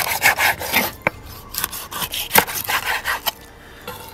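A knife cutting through a hake fish to divide it into steaks, producing repeated rasping strokes and sharp cracks of the blade through flesh and bone, close and fairly loud.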